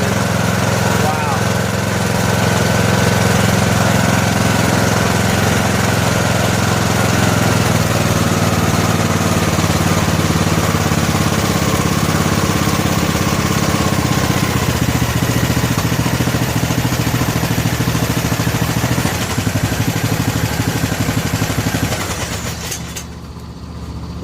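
A worn-out lawn tractor engine runs steadily at a loud, constant idle for most of the time, then cuts off near the end.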